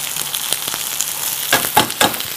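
Onions and peppers frying in a pan, a steady bright sizzle with a few louder crackling bursts near the end, close and alone.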